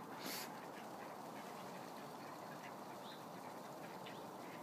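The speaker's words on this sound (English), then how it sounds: "ducks, and more ducks. Let's go. Here they come." A crowd of ducks quacking continuously outdoors as they come for bird seed, a dense overlapping chorus at steady loudness with no talking.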